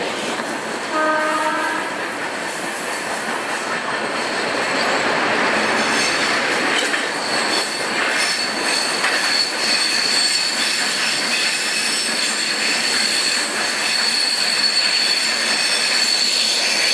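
A high-speed train hauled by a WAP7 electric locomotive runs steadily and loudly, with wheels squealing and rumbling continuously and a brief horn-like tone near the start.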